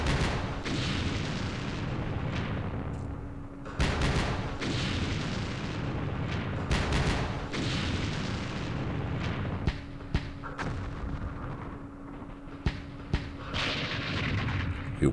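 A French artillery barrage in a Vietnam War strategy game set at Dien Bien Phu rumbles as a dense, continuous roll of distant booms and bursts, fairly quiet and unbroken, with no talking.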